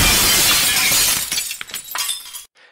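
Glass shatters in a loud, close burst of bright crashing noise that breaks into scattered tinkling fragments and then stops abruptly, with no voices.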